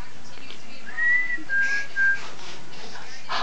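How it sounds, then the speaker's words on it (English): A person whistling three short steady notes in a row, near and clear in a quiet room, followed by a brief breathy squeak at the end. "You want to whistle?"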